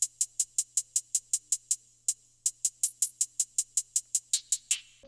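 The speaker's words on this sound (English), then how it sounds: "Basically, it's just a two-step hi-hat pattern" A crisp hip-hop hi-hat in a two-step pattern, with some steps left out, ticking in a steady fast rhythm, with one brief gap before the pattern resumes, heard alone.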